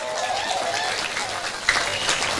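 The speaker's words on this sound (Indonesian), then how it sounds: "Tepuk tangan dulu" Steady applause from a crowd of worshippers at an Islamic religious gathering, a dense even wash of clapping lasting the whole stretch with no voices standing out.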